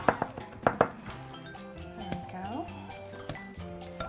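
A knife taps against a cutting board as vegetables are finely minced, a few quick sharp chops at the start, then sparser knocks while someone talks.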